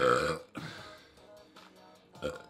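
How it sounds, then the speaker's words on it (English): A loud, close belch opens, followed by quieter muffled vocal noises and a brief rough sound near the end. "not that belch"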